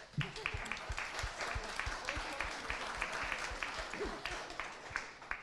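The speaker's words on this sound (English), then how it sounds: "she deserves a round of applause for that" Audience applause for a journalist at a local journalism event, a steady patter of clapping at moderate level, fairly faint and roomy, with a few louder individual claps and some murmuring voices underneath.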